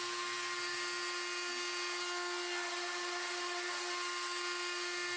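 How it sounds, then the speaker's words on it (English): A CNC machine routes a bloodwood inlay piece for a wooden cutting board, giving a continuous high-pitched spindle whine with a steady tone, moderately faint and uninterrupted. "it was time to add the inlay and the juice groove using my CNC machine"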